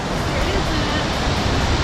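A hiking-trail waterfall rushes as a steady, loud wash of broadband noise with no breaks, close by and constant throughout.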